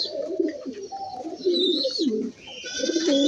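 Pigeons feeding together give repeated soft, throaty coos that overlap close by, with occasional higher chirps from young birds mixed in.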